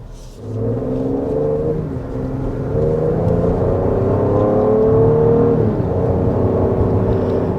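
A 2025 Ford Explorer Platinum SUV, a 400 hp family model, accelerates with a steady engine hum and whir that rise in pitch from the cabin, loud and continuous with no talking.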